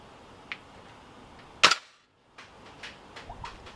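A VFC 417 gas blowback airsoft rifle fires one sharp, loud single shot using regular gas and 0.2 g BBs, followed by a brief silence and faint handling clicks and rustles nearby.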